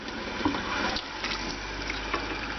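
Water running steadily from an RV kitchen faucet into the sink after new plumbing, a continuous close rushing stream with slight sputters from air in the lines; no talk.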